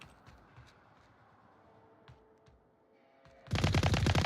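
A sudden burst of rapid gunfire erupts near the end after quieter background noise, loud and sustained like automatic weapons fire, in the VR shooter game Onward during a competitive esports match.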